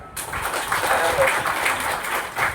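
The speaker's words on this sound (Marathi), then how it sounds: "अशा काकांचे जोरदार टाळ्या" Applause at a retirement felicitation ceremony for bus depot employees: a crowd claps in a dense, lively burst that swells and stays loud throughout, with a faint voice mixed underneath.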